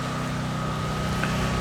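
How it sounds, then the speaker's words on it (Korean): A motor pump runs nearby as a faint, steady mechanical drone with a low hum, mixed with light wind noise. "지금 저쪽에 모터 펌프 소리가 얼마나 크게 날지는 모르겠는데"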